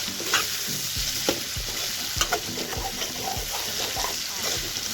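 Chicken fries with tomatoes and spices in a pan for a curry with curry leaves, a steady sizzle broken by repeated sharp knocks and scrapes of a spoon stirring, loud and close.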